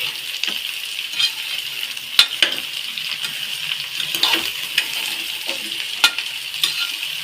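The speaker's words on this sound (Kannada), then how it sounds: "ಕುಂಬಳಕಾಯಿ ಚೆನ್ನಾಗಿ ಮಿಕ್ಸ್ ಮಾಡ್ಕೊಳ್ಳಿ" Pumpkin pieces and onions being stirred in a pan, a steady sizzle with scattered scraping and clinking of the spoon against the pan, close and alone.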